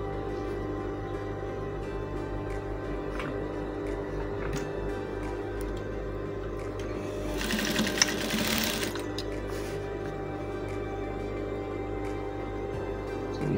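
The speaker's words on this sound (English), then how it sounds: "So the next thing is to sew on the edges." Sewing machine stitching the edges of a dashiki, a steady, continuous mechanical hum running throughout at moderate level, with a brief louder surge near the middle.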